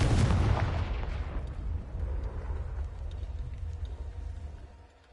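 A Confringo spell explosion in the Hogwarts Legacy video game, one loud, deep blast at the start that rumbles and fades over several seconds.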